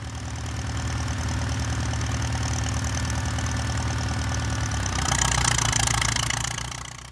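A Farmall F-20 tractor engine runs steadily close by, a loud low chugging that holds even for about five seconds before the tone shifts and grows slightly louder and rougher toward the end.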